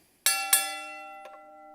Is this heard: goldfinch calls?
no